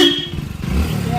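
A motorcycle draws closer, its engine a low, throbbing rumble that swells slightly over a brief moment, with no voices.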